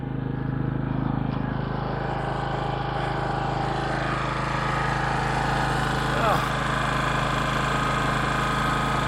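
A generator housed in a hutch runs with a constant, steady engine drone that stays at an even level from start to finish.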